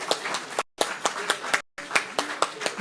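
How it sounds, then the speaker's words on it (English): Audience at a formal dinner event in NSW Parliament claps for performers, a moderate, fairly close patter of hands with distinct individual claps, interrupted by two brief cuts to silence. "please give our performers another big round of applause?"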